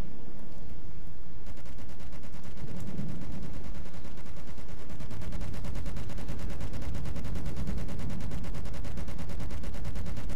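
Grouped weapons firing together in the naval combat game From the Depths, a dense rapid stream of gunfire mixed with heavy booms, loud and continuous throughout.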